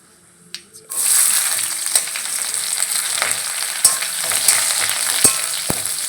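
Bay leaf and five-spice seeds dropped into hot oil, a couple of faint knocks, then a sudden loud sizzle that keeps crackling with sharp pops and stirring clicks.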